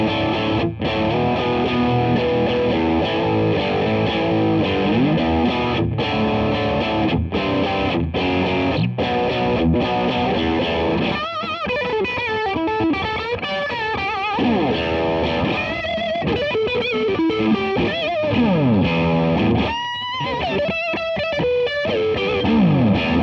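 Electric guitar played through a Fender Pugilist distortion pedal, with thick, sustained distorted chords and riffs ringing loud and continuous, broken by a few short choppy stops and palm-muted stabs.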